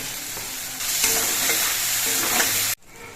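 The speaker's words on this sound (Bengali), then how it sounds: "মশলাগুলো কষানোর সময় আমি পরিমাণ মতো নুন দিয়ে দিচ্ছি" Spices and tomato sauté with salt in a pan for a taro root curry, producing a bright, steady sizzle that grows louder as the food is stirred and then drops off abruptly near the end.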